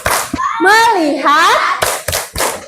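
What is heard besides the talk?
children doing a rhythmic focus clap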